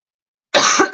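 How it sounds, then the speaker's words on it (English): After half a second of silence, a person lets out two harsh, close coughs in quick succession, the first longer and the second clipped short. "I keep having a coughing fit whilst trying to teach you how to do faces."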